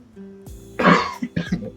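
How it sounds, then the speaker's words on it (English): A person coughs a few times in quick, harsh bursts, close and loud, after a moment of quiet. "Of course, I've got a cough."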